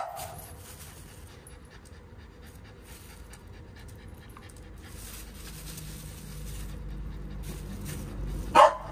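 Dogs panting and snuffling as they catch and eat tossed food, soft and close, with a single short sharp bark near the end.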